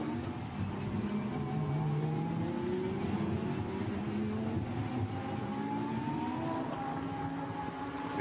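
Lamborghini Super Trofeo race cars at Misano, a continuous loud engine roar with overlapping rising and falling engine notes as several cars pass, with no voices.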